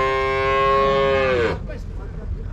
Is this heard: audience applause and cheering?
no